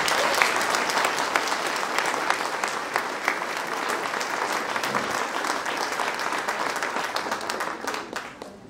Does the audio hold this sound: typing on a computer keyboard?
no